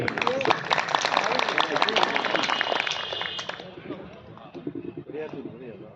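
An audience at a Hindi poetry recital gives a burst of dense, loud applause that thins out after a few seconds. A voice then carries on speaking over the last scattered claps.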